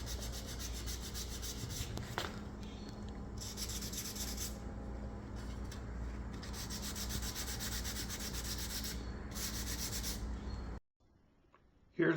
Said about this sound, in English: We'll let it dry and let the sanding begin.